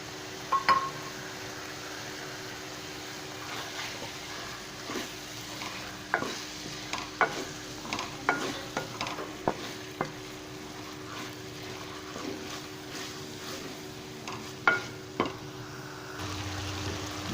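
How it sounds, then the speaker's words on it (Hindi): Minced mutton with salt, chili, turmeric and garam masala stir-fried in a pan: a steady low sizzle under repeated spatula scrapes and taps, close and moderately loud, no talk. "इसको अच्छे से मैं भून लेता हूँ"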